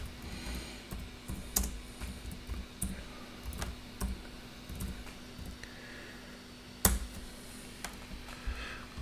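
Typing on a computer keyboard while setting up an ESP-IDF menu configuration for an ESP32 Bluetooth project, with scattered light key clicks and a few sharper taps over a steady low hum, close and fairly quiet.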